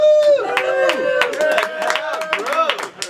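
A crowd at a comedy show cheers and whoops for a comic, with rising shouted voices over scattered clapping, lively and close.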